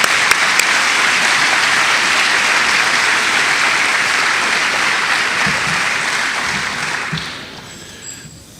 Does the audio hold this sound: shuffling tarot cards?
no